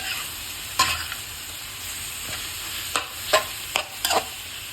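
Food boils and sizzles steadily in a pot, with occasional clinks and scrapes of stirring and no voices.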